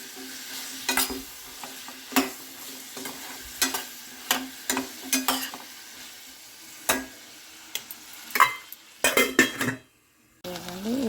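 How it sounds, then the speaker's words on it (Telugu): Food deep frying in hot oil, with a faint steady bubble under frequent sharp clinks and scrapes of a utensil against the pan, close by and with no voices. "ఇక 1 నిమిషం నూనెలో ఫ్రై అవుతూ ఉంటాయి."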